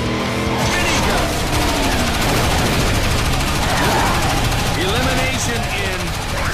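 A minigun firing in the car-combat game Blood Drive, a continuous dense rattle of rapid shots over engine noise, with voices talking throughout.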